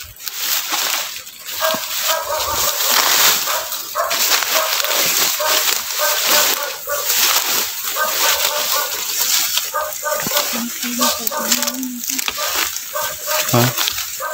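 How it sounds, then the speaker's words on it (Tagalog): Dogs barking repeatedly outdoors, sharp barks in irregular bursts mixed with whimpers, alongside sloshing water and people talking throughout. "Sige, may aso sila."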